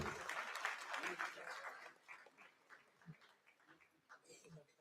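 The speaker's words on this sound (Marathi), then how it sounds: "तर आपण जोरदार टाळ्या वाजून स्वागत करू" A crowd at a statewide bride-groom and parents introduction gathering claps densely for about two seconds, then the applause thins into scattered claps and fades, with voices talking underneath.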